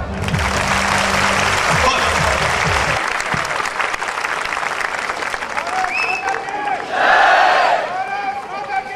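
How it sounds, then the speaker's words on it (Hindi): Loud crowd applause and cheering at a Wagah border Independence Day celebration, a dense wash of clapping with a rhythmic pulse early on and a swell of shouts and whistles later. "एक बार जोरदार तालियां।"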